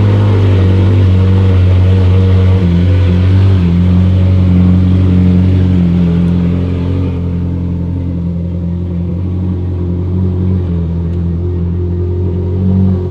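A Ferrari engine runs steadily while being driven onto a car hauler trailer, a loud, continuous low rumble close by that eases slightly partway through, with no talking.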